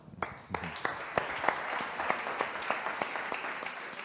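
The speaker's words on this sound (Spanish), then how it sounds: "Un aplauso." Audience applause for a speaker at an AI and data talk, with dense clapping and distinct sharp claps standing out, steady and close throughout.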